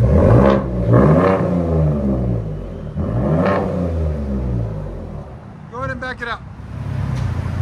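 A 2021 Ford F-150 with a 3.5L EcoBoost V6, X-pipe and straight pipes, revs loudly several times up close, rising and falling blips followed by a quick sharp rev, with talk in between.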